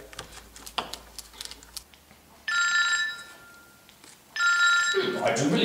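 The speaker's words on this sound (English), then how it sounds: "I do believe that's the phone." A telephone in a lecture-puppet scene rings twice in separate electronic bursts, each lasting about half a second, with quiet tapping and light background activity around them and a voice beginning at the end.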